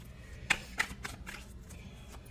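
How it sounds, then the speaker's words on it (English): Tarot cards shuffled by hand, a few soft, quick riffling bursts spaced out over a quiet background, close and faint. "I'm going to shuffle them back in and see if they come out again."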